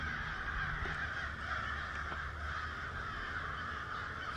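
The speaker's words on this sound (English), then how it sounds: "Did you hear them birds?" Crows caw repeatedly as they fly overhead outdoors, a series of harsh calls over a steady background hush, moderately near and without talk.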